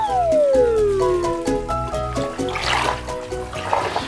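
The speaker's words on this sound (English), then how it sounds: "I'm going to pour in a nice big dollop of bath foam." Water running into a bathtub as bath foam is poured in, a steady rushing flow heard under a musical background with a sliding tone and plinking notes.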